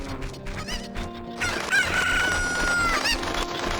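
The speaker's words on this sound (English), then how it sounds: "So the cuckoo we've just thrown over here, we're going to go grab again." A cuckoo chicken in The Legend of Zelda: Ocarina of Time crows and clucks loudly over light game background sounds, the call rising into a sustained cry.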